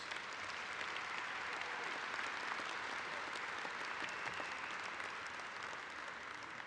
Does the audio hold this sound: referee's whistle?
no